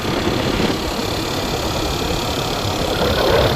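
Cars near a temple, a steady close engine rumble with a low idling drone throughout, no voices.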